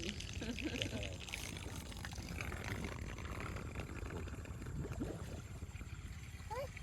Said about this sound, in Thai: อืมน้ำไหลเนาะ